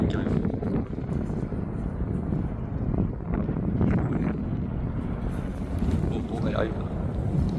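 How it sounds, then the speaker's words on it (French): Strong wind gusts roar during a sandstorm, a dense, continuous low rumble buffeting close to the microphone with surges throughout, while a person speaks over it. "Avec des rafales à 90, 100, 110."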